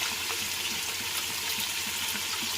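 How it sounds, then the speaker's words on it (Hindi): Water poured into a cooking pot for chicken mandi rice, a steady, fairly quiet splashing stream that runs continuously without talk. "इसमें मैं ये 3 बाउल्स वाटर के ऐड कर रही हूँ"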